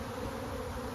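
Thousands of honey bees issue from a hive as a swarm, making a thick, continuous buzzing hum, close and unbroken, with no one talking.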